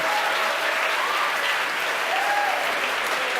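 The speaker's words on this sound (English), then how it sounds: "The crowd here at headquarters cheering." A crowd at SpaceX headquarters cheers and applauds steadily through a Starlink satellite launch broadcast, dense clapping with scattered whoops filling the space with no talk over it.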